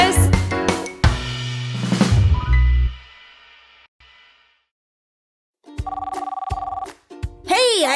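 Cartoon telephone bell rings in short bursts with gaps, near and loud, set among cartoon voices and music from a children's show about a car workshop.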